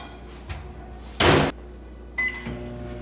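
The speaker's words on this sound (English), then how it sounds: "we have to melt the butter in the microwave" A microwave melting a stick of butter for banana bread: a door thunk, a short loud burst of noise, then a clear electronic beep and a faint hum in a quiet kitchen.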